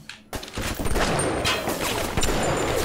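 Gunfire in the first-person shooter Bioshock: a dense, continuous volley of shots and impacts begins abruptly after a brief quiet moment and rolls on at moderate loudness, with sharper cracks standing out near the end.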